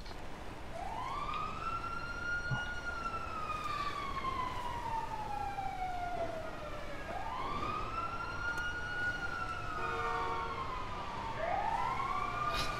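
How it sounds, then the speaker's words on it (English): An ambulance siren in a driving video game wails in long rising and falling sweeps, loud and continuous over a steady engine rumble, with no talking. "Can you hear the sirens?"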